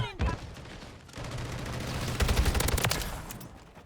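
Rapid automatic gunfire in the shooter game Modern Warfare 3, with sustained bursts of close shots and sharp cracks that build toward the middle and then taper off, with a voice speaking over the action.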